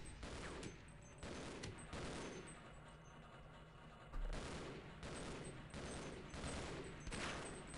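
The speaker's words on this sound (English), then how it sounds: "Shoot and shoot." Rapid bursts of gunfire from the video game Half-Life, several clustered volleys of sharp shots with brief gaps between them, fairly loud and with no talk.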